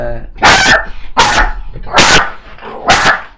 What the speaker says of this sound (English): That was my dog going mad at the postwoman there.